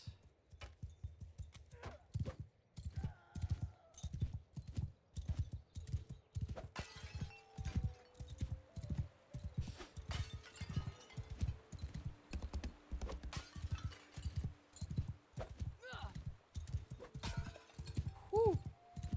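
Horse hooves clip-clop steadily during mounted sword training in a video game, an even, rhythmic string of close hoofbeats with scattered other game effects over them.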